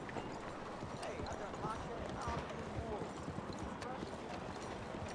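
Horse hooves clip-clop steadily in Red Dead Redemption 2, a fairly busy rhythmic patter of footfalls running through the whole stretch under a voice talking.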